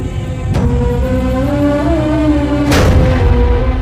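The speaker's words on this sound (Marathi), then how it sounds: "विशाळगडावर पोहोचल्यावर तोफांचे 5 बार द्या" A cannon salvo booms over a loud, continuous rumbling background, with two heavy blasts standing out, one early and one near the end.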